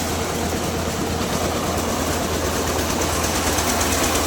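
A large mustard threshing machine runs with a loud, steady mechanical roar and rapid rattling hum, continuous and close from start to finish.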